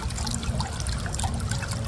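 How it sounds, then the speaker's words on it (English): Salt water sloshes and swishes continuously inside a capped water bottle as it is shaken, a steady close-up liquid churning with no pauses. "Shake up the salt water"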